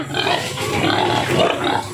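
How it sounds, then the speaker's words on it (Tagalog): A pig grunts close by in a steady, rough low rumble lasting a couple of seconds, with no speech over it. "Na grabe baboy ni Sister Judith"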